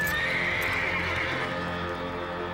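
A horse gives a loud, drawn-out whinny close by, with hooves clopping faintly underneath.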